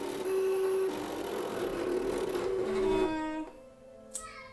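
A Cricut cutting machine whirs steadily while cutting material, its motor tone holding for about three seconds before winding down into quieter mechanical clicks.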